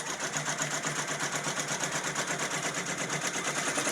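A Brother PR680W embroidery machine stitches a garden flag with a fast, steady, rhythmic mechanical whir and clatter that holds evenly and close throughout, with no voices.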